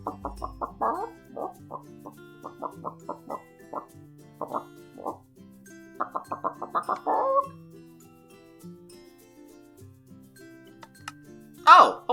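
A man imitates a chicken with bursts of rapid clucks and bawks, several clucking runs separated by pauses, ending in a louder squawk, close to the microphone.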